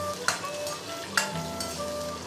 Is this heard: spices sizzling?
yes